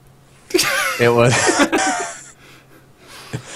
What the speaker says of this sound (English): That's my fiance sneezing.